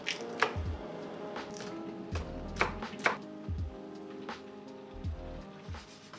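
Knife chopping food on a board for a home-cooked stir fry, several short runs of quick, thudding cuts separated by pauses, close and fairly quiet with no talking.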